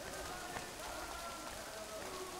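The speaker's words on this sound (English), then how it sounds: "It's raining again." Steady rain falls across the open-world streets of the game Assassin's Creed III, a continuous soft hiss of drops on surfaces with no voices over it.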